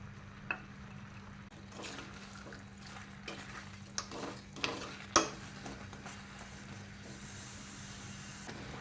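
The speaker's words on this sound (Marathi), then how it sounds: "हे जे मिश्रण आहे ते आपल्याला कंटिन्युअसली हलवत राहायचं आहे जोपर्यंत घट्ट असं पुरण तयार होत नाही" Chana dal and melted jaggery puran filling for puranpoli is stirred in a pan, with soft scraping strokes and a few sharper utensil knocks over a low hum and faint sizzle, no talking.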